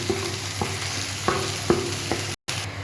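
Ground spices frying in a pan for a pointed-gourd fish curry, with a steady close sizzle and regular spatula scrapes, with a brief cut near the end.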